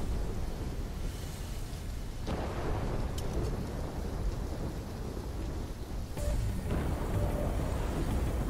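A thunderstorm in the video game Black Ops 3: heavy, steady rain hiss with deep rolling thunder rumbles swelling at intervals across the whole stretch, dense and close.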